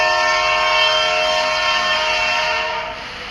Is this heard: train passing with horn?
yes